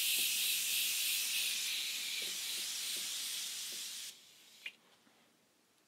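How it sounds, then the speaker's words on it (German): Face mist spray bottle pumped once, releasing a fine mist as a long, steady, close hiss lasting about four seconds, then stopping abruptly, followed by a couple of faint clicks. "man drückt einmal rauf, so wie beim Haarspray und dann sprüht man sich das ins Gesicht"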